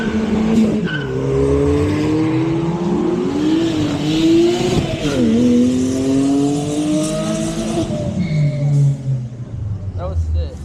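Cars at a car meet skid with loud, wavering tire squeals that sweep up and down in pitch over engine noise. People talk nearby throughout.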